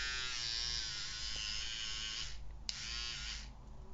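An İnsua HD-102 electric nose hair trimmer runs with a close, steady high-pitched buzz. It holds constant for several seconds with a couple of brief dips near the end.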